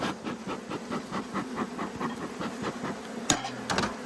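A beekeeper's smoker puffs smoke over honey bees at the edge of a hive box, giving soft repeated breathy hisses in a steady rhythm, close by, with a sharp knock near the end.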